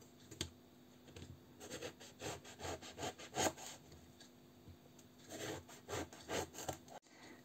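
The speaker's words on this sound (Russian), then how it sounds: "Режем кружочками примерно по 1 сантиметру." A knife slices two eggplants into rounds about one centimetre thick, making rhythmic, close scraping cuts in quick bursts, with a short pause before a final cluster of strokes.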